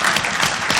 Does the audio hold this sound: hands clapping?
yes